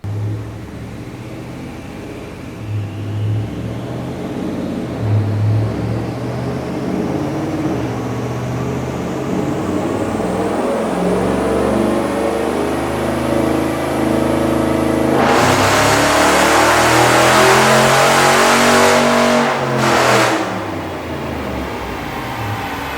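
A RIPP-equipped V8 HEMI with new coil packs runs strapped down on a dyno, a steady loud engine drone climbing in pitch as it revs up, then a brief roaring burst near the end before easing off.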